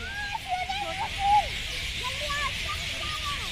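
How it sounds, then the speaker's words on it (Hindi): Songbirds chirp in a park full of flowers and fruit trees, a scatter of short, bright calls rising and falling over a steady hiss of background noise, moderately close, with no talking. "और चिड़ियों की चहचहाट आप लोग सुन सकते हैं।"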